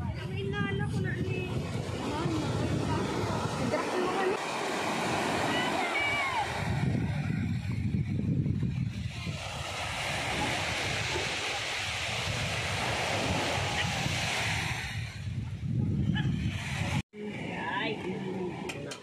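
Calm surf on a northern beach, with soft waves and steady wind rumble beneath near and distant voices of people chatting throughout, some brief louder stretches, and a short dropout toward the end.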